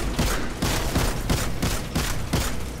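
Rapid, sustained gunfire fills a Destiny 2 firefight during a Nightfall strike, with loud, dense bursts pulsing in a steady rhythm and no talk.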